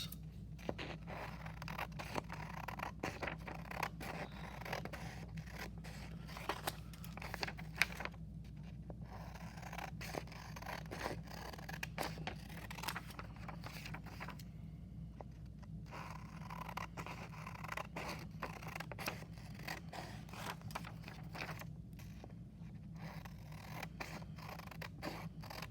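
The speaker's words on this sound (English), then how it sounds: "Now this one, we are going to cut out the big box." Scissors snip steadily through paper while a large box shape is cut out, the close, soft crunching cuts repeating in an even rhythm over a low background hum with no talking.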